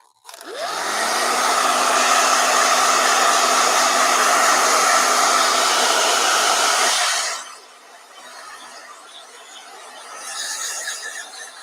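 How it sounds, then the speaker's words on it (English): A hair dryer blows steadily and loudly for several seconds, then cuts off, leaving quieter room noise with faint laughter. "Blow dryer."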